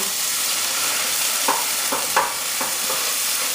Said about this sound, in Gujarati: આપણે જરાક આ ટમેટો પેસ્ટને તળશું